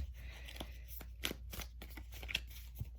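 Soft, close riffling and slapping of tarot cards being shuffled, several quick bursts with brief pauses between, quiet and alone.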